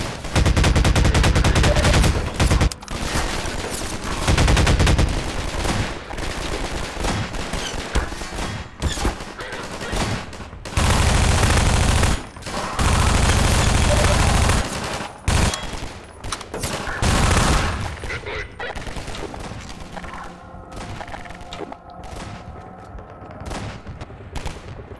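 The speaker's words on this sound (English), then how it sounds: "There are snipers everywhere." In the Half-Life 2 video game, loud, close gunfire cracks out in repeated bursts and single shots over about 25 seconds, separated by short pauses, and the exchange gives way to quieter intermittent shots near the end.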